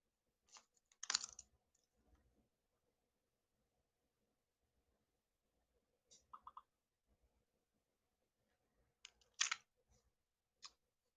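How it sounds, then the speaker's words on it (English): Sparse, faint clicks and taps on a computer keyboard in a quiet room, arriving in short scattered clusters separated by long silent gaps, with no speech. "over the sound of the typing."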